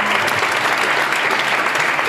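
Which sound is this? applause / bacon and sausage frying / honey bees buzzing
applause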